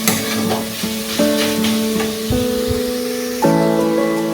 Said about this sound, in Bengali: এইভাবে আস্তে আস্তে কন্টিনিউ নাড়তে